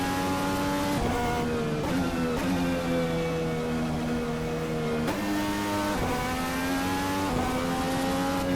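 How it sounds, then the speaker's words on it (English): Formula 1 race cars in a racing sim video game roar past at high revs, a steady loud engine whine with pitch dropping and climbing through gear changes, several cars overlapping with no talk. "We're getting passed again, hopefully not by another F1. Oh yeah, another F1 car."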